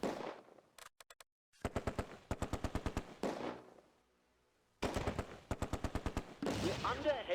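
Rapid bursts of automatic and rifle gunfire crackle in a World War II tactical game set around the Oosterbeek landing zone during Operation Market Garden, several volleys separated by short pauses and quieter stretches.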